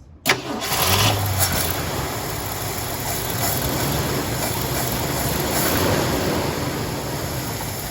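A 1970 Ford Country Squire wagon engine turns over on a cold start and catches, then settles into a rough, loud idle that runs steadily with a slightly uneven rumble.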